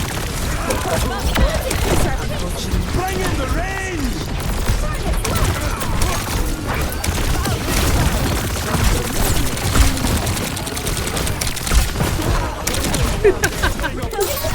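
Overwatch 2 gunfire rattles on without a break, loud and dense with booming hits mixed in, while a person talks over the fighting.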